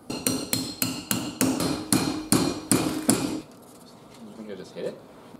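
A knife is used to push a cork down into a wine bottle, producing about ten sharp, evenly spaced knocks, close and fairly loud, before the tapping stops and a quieter, muffled shuffle follows.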